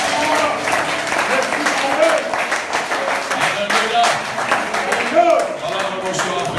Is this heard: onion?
no